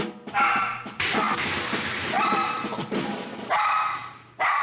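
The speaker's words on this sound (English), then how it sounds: "hear the bark" A troublesome dog on a Marine base barks in loud, close bursts, several sharp barks with short gaps and a brief whimpering yip between them.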